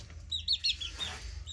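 Hens cluck in short, close bursts over a low steady background hum, with a few sharper high notes mixed in.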